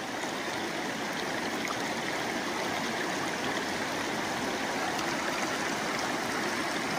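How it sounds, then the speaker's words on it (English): Rapids on the Dungeness River at a wide rocky stretch, a steady dense hiss of rushing water that holds constant and close throughout, with no voices. "A little drop in the river and some rapids."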